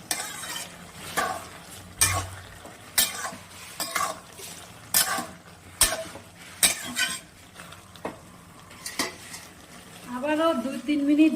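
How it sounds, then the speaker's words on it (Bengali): Fried eggs and cooked bottle gourd are mixed in a pan, with a low sizzle beneath a series of sharp, irregular scrapes and clinks from a spoon against the pan, each stroke loud and close. "ভালো করে মিশিয়ে নিব।"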